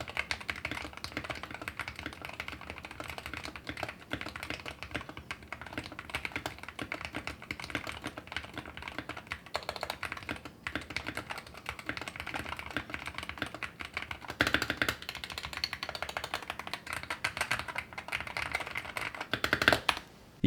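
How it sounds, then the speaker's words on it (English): Continuous rapid typing on a mechanical keyboard with lubed switches, a dense stream of soft, close clacks and taps with no talking. "Now stock, these switches didn't sound all that good, so I lubed them up and this was the result."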